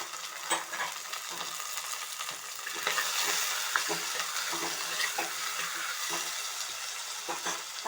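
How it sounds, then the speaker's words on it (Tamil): Onions and tomatoes sauté in a pan for fish curry. A soft, steady sizzle runs underneath while a utensil scrapes and taps in an irregular rhythm, fairly close by and fairly quiet. "பொன்னிறமாக வதங்கின பிறகு தக்காளி சேர்த்து வதக்குறோம்"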